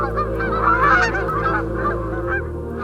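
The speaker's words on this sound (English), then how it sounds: "The cacophony of calls from geese mixed with cranes is an experience every outdoor enthusiast needs to enjoy" Geese honking in a dense, continuous chorus mixed with cranes at dawn on Cibola National Wildlife Refuge, Arizona, calls overlapping loudly and steadily throughout.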